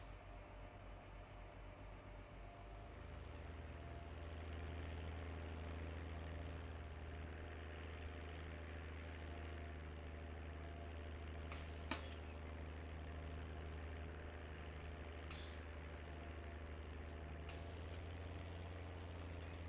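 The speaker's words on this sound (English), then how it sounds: "the engine sound of this tractor is just so satisfying" A tractor engine idling in a farming video game set on Hungarian dairy farms: a quiet, steady low rumble with a faint high whine and a few brief clicks, alone without talking.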